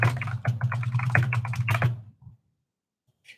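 Rapid typing on a computer keyboard, close and steady for about two seconds with dense clustered keystrokes, then a pause into near silence.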